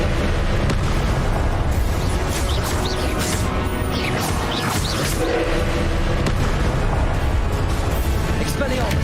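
Confringo spell blasts in Hogwarts Legacy, a continuous dense rumble of magical explosions and booms with crackling bursts, loud and close throughout, under a constant layer of game noise and chatter.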